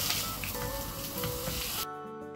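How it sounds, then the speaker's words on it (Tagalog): Pork knuckles sear in a hot pan with a loud, steady sizzle and spatter close up, cutting off abruptly near the end. "Ang una po natin gagawin ay i-sear po natin yung ating knuckles para po sa additional na flavor."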